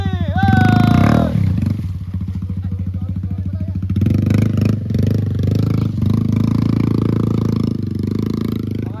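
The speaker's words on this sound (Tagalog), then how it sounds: "Mga lakwatserong motor." A motorcycle engine runs loud and steady throughout, its rumble holding a rough idle-like throb after a brief higher whine at the start.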